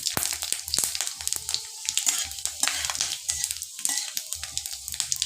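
A dried red chilli and five-spice seeds crackle and sizzle in hot oil, with a busy run of sharp pops and spits close by, steady for several seconds and with no voice over it.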